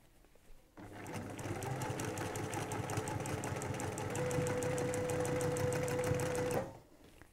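Sewing machine stitching quilting fabric panels, starting after a brief pause and running at an even fast rhythm of needle strokes for several seconds before stopping, close and alone.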